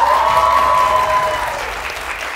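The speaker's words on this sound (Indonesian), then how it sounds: "Teman-teman dari Ilmu Komunikasi, UNJ, tepuk tangannya boleh?" Audience at a televised Indonesian political talk show, a communications-studies student group, bursts into applause, a dense, steady wash of clapping near and loud that gradually tapers over a couple of seconds.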